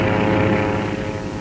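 Labouring propeller engine of a crippled fighter plane with zero oil pressure, bucking and losing altitude over the sea, a loud, continuous droning roar held steady throughout.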